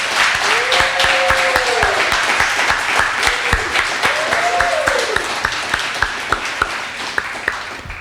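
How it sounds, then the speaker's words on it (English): An audience at a 2024 MLK college scholarship awards ceremony applauds the graduates, with steady, loud, sustained clapping joined by a few rising whoops and cheers. "please give a warm round of applause to our graduates"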